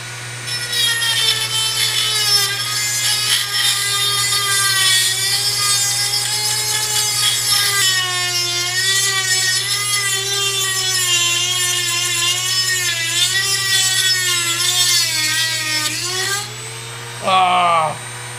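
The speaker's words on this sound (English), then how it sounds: "sand this down a little bit, I think" A Bowie knife being sanded with a Dremel rotary tool, a loud steady whining grind that holds with a wavering pitch for about sixteen seconds, then cuts out before a short final burst.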